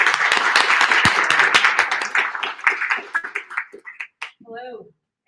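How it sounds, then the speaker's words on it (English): Applause and clapping from a meetup audience welcoming the first speaker at a ChiPy Python meeting, a dense burst of claps that thins out and fades, with cheering voices mixed in and a brief voice near the end. "We can give her a round of applause."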